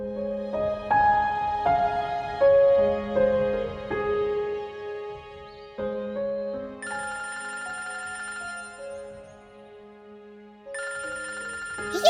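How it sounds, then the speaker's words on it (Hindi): A mobile phone rings indoors with a melodic electronic ringtone that repeats in short phrases. It stops briefly, then starts again, and no voices are heard. "ये किसका मोबाइल बज रहा है?"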